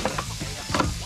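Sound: blue swimmer crabs sizzling as they are flipped in pan

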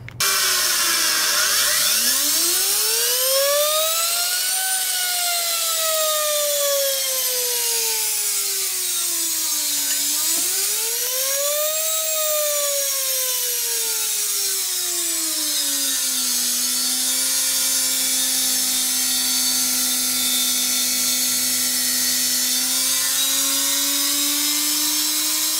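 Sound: noisy universal motor running at high RPM

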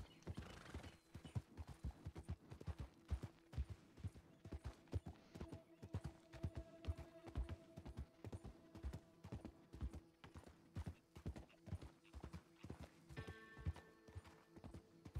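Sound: horse galloping in video game Red Dead Redemption 2

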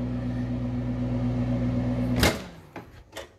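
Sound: microwave oven running, cooking two eggs

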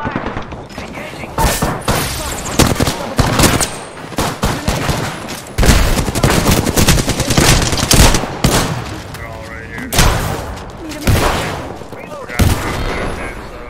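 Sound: gunfire in a video game

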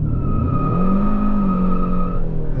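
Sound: 2023 Hyundai Sonata N-Line launch with wheelspin, traction control off

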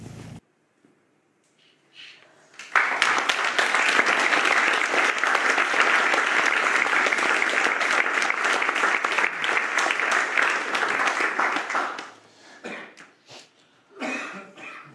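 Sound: applause

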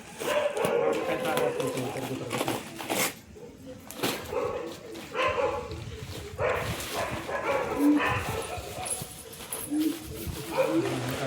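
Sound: dogs barking

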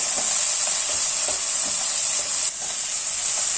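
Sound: tomatoes sautéing in a pan

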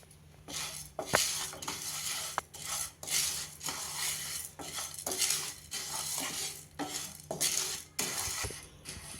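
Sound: dry roasting toor, masoor and moong dal, stirring in pan

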